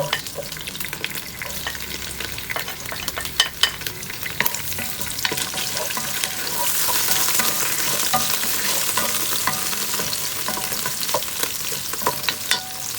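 Onion and garlic sautéing in oil in a pan, a close, steady crackling sizzle broken by frequent clattering scrapes of a spatula stirring throughout, with no talking.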